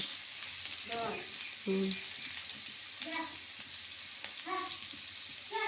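Cut potatoes frying in hot mustard oil with panch phoron, a steady soft sizzle running under a voice talking through the cooking of a bottle gourd dish.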